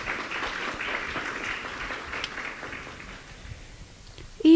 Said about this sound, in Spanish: Un fuerte aplauso, por favor, para el padre Álvaro.